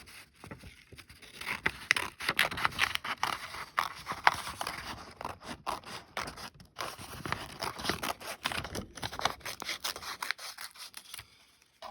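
Scissors cut out a paper woodcarving pattern of a golden retriever, making steady close snipping and papery rustling for about twelve seconds without any speech.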